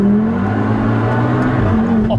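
The exhaust of a 650+ horsepower Golf R Mk7 swapped with an RS3 engine drones with a steady, growling note, loud and close, with a slight rise toward the end.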